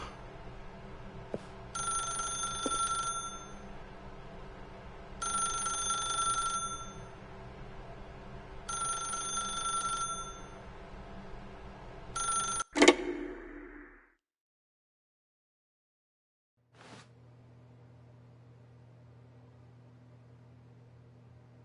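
A telephone rings in The Stanley Parable video game, repeating in four evenly spaced bursts of bright ringing, then cuts off abruptly with a click and falls to silence before a low hum returns.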